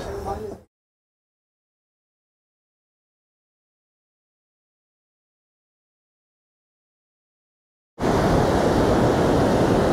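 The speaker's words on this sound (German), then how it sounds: "Ja, wir sind mal wieder am Strand." Ocean surf and strong wind on a stormy beach at Zoutelande, Zeeland, a dense, loud roar of waves and gusts that cuts in near the end after a long silence, with a brief moment of other sound at the start.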